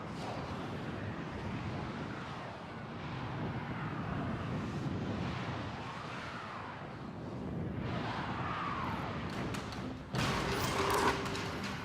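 Engine of a landing craft in the video game Warframe, a steady broadband roar and rumble that holds throughout, with a brighter, louder surge near the end.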